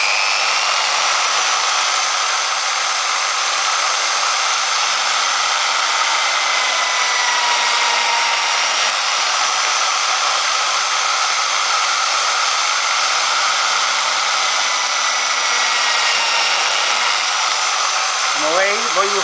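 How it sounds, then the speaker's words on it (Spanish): A power drill bores a 5 mm hole through wood, making a steady, loud, continuous whine that holds almost unchanged for the whole stretch. "Y taladramos la madera a 5 milímetros también."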